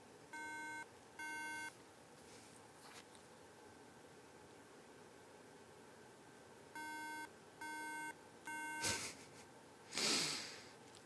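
Electronic beeps come in short paired bursts, two at the start and three more near the end, followed by a couple of soft breathy rustles.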